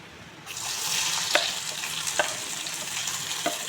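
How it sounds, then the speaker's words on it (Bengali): Spices tempering in hot mustard oil for a katla fish curry, a steady close sizzle and hiss that starts suddenly and holds, with a few faint clinks of a utensil. "এখন সম্ভার দেব। রান্নাটা সরিষার তেল দিয়ে করছি।"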